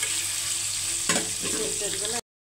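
Eggs seasoned with turmeric fry in a hot pan with a steady broadband sizzle and some stirring scrapes, then cut off abruptly into silence near the end.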